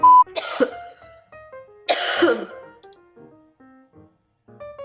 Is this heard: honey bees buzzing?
no